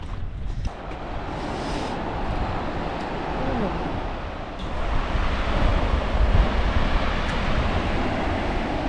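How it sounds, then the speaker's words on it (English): Wind and surf roll onto a beach in Scotland, a broad continuous roar with heavy wind buffeting across the microphone that swells louder partway through, and a voice is heard briefly. "Wow, look at this beach."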